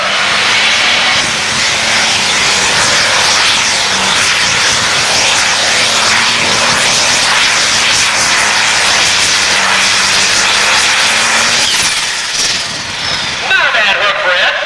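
A John Deere pro stock pulling tractor at an NTPA Grand National regional event roars down the track in a loud, continuous, close engine blast that stays steady, then dips briefly near the end, with an announcer talking over it.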